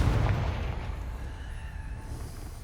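A Confringo fire spell blasts off in Hogwarts Legacy, a booming, explosive burst that is loudest at the start and then trails away into a rumbling decay.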